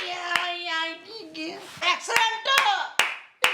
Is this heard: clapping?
yes